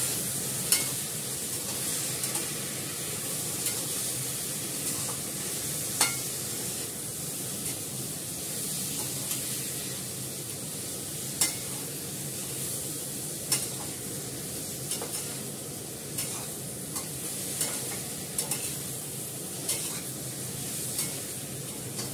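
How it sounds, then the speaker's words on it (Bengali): Spices with Kashmiri chilli powder sauté in a pan, a continuous close sizzle broken by occasional sharp clinks of a spatula against the metal as the mixture is stirred, with no talking. "কাশ্মীরি লঙ্কার গুঁড়ো দিলাম, ভালো করে কষাবো, কষিয়ে জল দেবো।"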